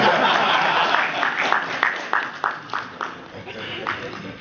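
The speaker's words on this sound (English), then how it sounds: "Another round of applause." Applause breaks out from the audience at a CEOs' forum, starting as a broad crowd clatter and thinning into a few separate, rhythmic claps that fade out, with faint murmuring underneath.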